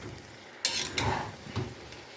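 Cabbage frying and being stirred in a pot, with a soft sizzle and a few clattering scrapes of a utensil against the pan, close and fairly quiet.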